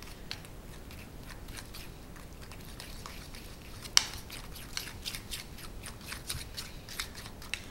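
Yellow cake batter being stirred with blue food colouring, a steady run of soft wet scraping and patting strokes close by, with one sharper knock partway through.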